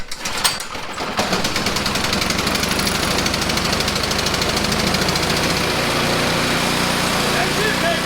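A Troy-Bilt Squall 2100 snowblower's small gas engine, fuelled with ethanol-free gas and choked, catches after a pull and settles into a loud, steady, rapid putter of close idling.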